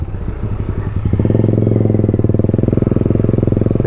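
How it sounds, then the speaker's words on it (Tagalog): Motorcycle ridden along a sandy beach path on an island, the engine close and loud, its low rhythmic chugging speeding up into a steady rapid pulse. "Nakakapag motor ka sa ganitong lugar."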